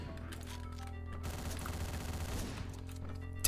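Gunfire from a violent street confrontation in Miami, heard as a dense rapid burst of shots over a low background hum, fairly quiet and distant-sounding, with no talking.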